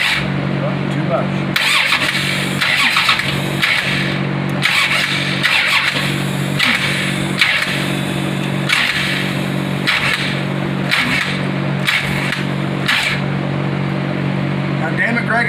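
A Plymouth Barracuda with a 511 Hemi engine cranks in repeated short bursts as someone tries to revive it after long disuse, the starter whirring again and again while people talk throughout.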